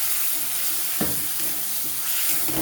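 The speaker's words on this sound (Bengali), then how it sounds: "একটু মশলাটাকে কষিয়ে নেবো, মশলাটাকে কষিয়ে একটু গলিয়ে নেবো" Spice paste of tomato, coriander and chili powder with a little water sizzles and bubbles in a pan while making chana dal, a continuous close hiss with a couple of brief stirring scrapes and no talk.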